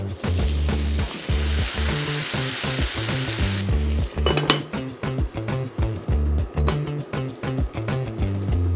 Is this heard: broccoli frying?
yes